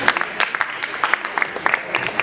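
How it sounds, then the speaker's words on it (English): Scattered, light clapping from a small audience at a talk on youth voice in government, a loose patter of individual claps over a soft room hush that holds steady for a couple of seconds. "Yes, please give her a round of applause."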